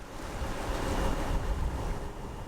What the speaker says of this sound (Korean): 새벽부터 바람이 세더니 파도의 기세가 심상치 않습니다.